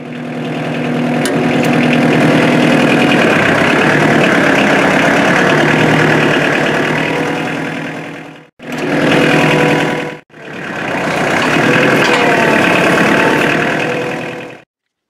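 Chainsaw engines of a Stihl MS310 and a Holzfforma G366 run outdoors on a hillside, a loud, close, steady two-stroke drone broken by two abrupt cuts into three runs, with no talking.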